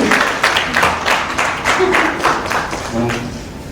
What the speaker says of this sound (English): Let us all clap for ourselves.